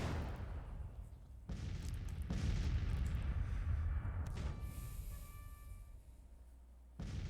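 Cannons fire in a Civil War battle in Grand Tactician, the Battle of Mobile, with sharp booms cutting in one after another over a dense rumble of distant battlefield noise.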